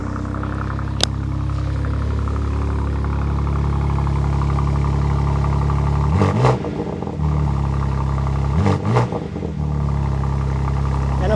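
BMW G81 M3 Touring with a cat-back exhaust idling with a steady low rumble, its engine note rising in two brief revs in the second half.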